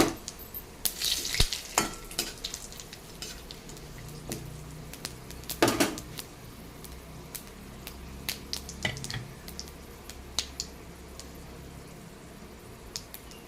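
Bay leaves, cloves, cardamom and cumin sizzle in tempering oil as a soft background hiss, punctuated by irregular sharp clicks and scrapes of stirring in the pan, fairly quiet and close, without voices.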